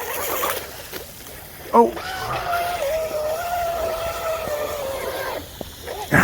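An RC outrigger boat with an SSS 2960 3000kv motor and Turnigy 70A ESC whines across the water at a distance, its pitch rising and falling through a turn. A brief exclamation and splashy bumps cut in.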